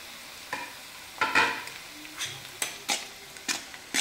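Soaked poha tumbles into a pan of oil and turmeric over low heat and gets stirred, producing a soft sizzle with several distinct spoon scrapes and clanks against the pan.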